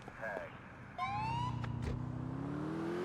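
A police car in the video game GTA 4 sounds a rising and falling siren over its revving engine, loud and close, with game noises cutting in briefly.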